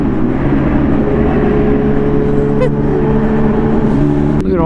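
A motorcycle engine hums and revs continuously at close range, a steady throaty drone with harmonic tones that shift slightly, and a couple of sharp clicks near the end.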